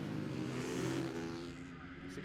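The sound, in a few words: supermoto motorcycles revving gently off-road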